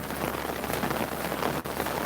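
Rain falls steadily in a dense, even patter on surfaces nearby, a continuous hiss with occasional individual drops standing out, no voices present.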